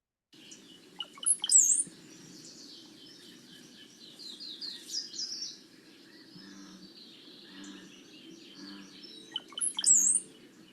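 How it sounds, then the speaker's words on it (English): Male songbird, an early spring migrant in Kentucky, giving a short gurgling, liquid glee song, faint and somewhat distant, with two sharp rising notes and soft chirps in between. "The male sings a very short song that sounds like a glee or a gurgle"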